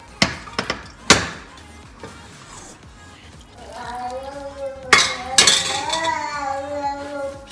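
Couscous is stirred with sauce in a dish, bringing sharp clinks and knocks of a utensil against the dish, scattered at first and then busier, while a person speaks between the hits.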